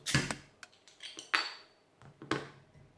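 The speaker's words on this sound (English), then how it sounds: "Open up the bottle of course." A bottle of Brauerei Hoh Ur-Kö Kellerbier from Köttensdorf is handled and opened, giving a series of close metallic clinks and taps at an uneven pace, heard alone without talk.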